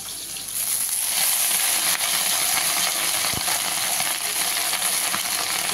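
Greens tossed into a pan of lightly fried onions and dried red chillies sizzle and hiss steadily at close range, with a brief clatter as they are stirred.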